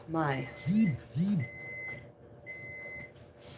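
A microwave oven gives a few sharp electronic beeps, then a steady tone sounds twice with pauses between, near and clear; a voice briefly overlaps at the start.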